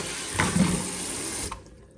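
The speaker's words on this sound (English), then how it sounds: "Now we're gonna fill it up with hot soapy water." A kitchen sink fills with hot soapy water from a running tap, ready for scrubbing dishwasher filter parts. The steady rush plays close, with a brief clunk midway, then cuts off into quiet.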